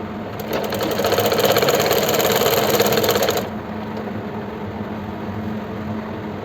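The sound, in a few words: sewing machine stitching palazzo pant side seam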